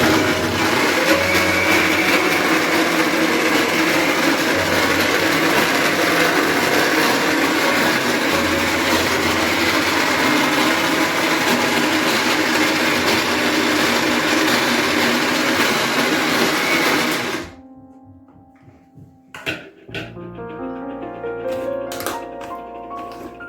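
A wet grinder churning urad dal batter for Sri Lankan ulunthu vadai, a steady loud rumbling whir that runs unbroken for most of the clip before stopping abruptly, followed by a few clicks and quieter handling sounds.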